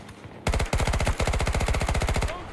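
Automatic weapon fire in Battlefield 2042 rips out in a long, fast, loud burst of rapid shots running almost two seconds without a break, close and continuous.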